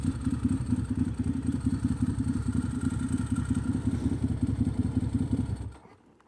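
A Ducati Monster motorcycle engine idles loudly and steadily close by with a throbbing low rumble, then shuts off just before the end, leaving near silence.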